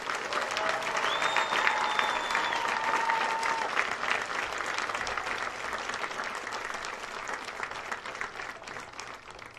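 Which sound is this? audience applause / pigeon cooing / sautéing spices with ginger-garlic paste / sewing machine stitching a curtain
audience applause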